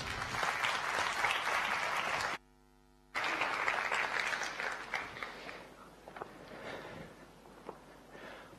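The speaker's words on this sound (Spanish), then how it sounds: "Un fuerte aplauso para todos ellos" An audience at a round-table event on digital transformation in Gran Canaria gives sustained applause, broken by a short dropout, before the clapping resumes and slowly fades out.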